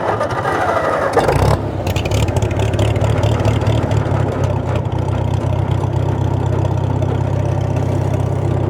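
Farmall H tractor engine settling into a steady, loud idle after a choked start, a continuous low rumbling chug that holds even for several seconds close by.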